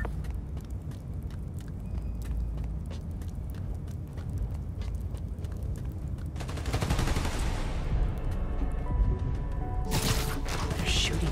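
Rapid bursts of gunfire rattle through a Spider-Man: Miles Morales game scene, with repeated machine-gun volleys over a steady rumbling backdrop that grows louder and denser toward the end.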